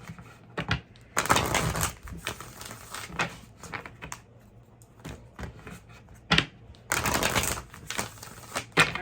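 Tarot cards are shuffled in several quick bursts of riffling, crisp papery flutters separated by soft handling taps and pauses, heard up close.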